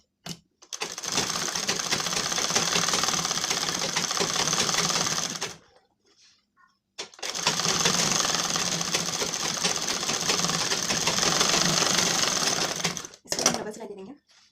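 A sewing machine stitching a blouse, running in two long steady whirring bursts of several seconds each, separated by a short pause, loud and close, with a brief start and stop at the end.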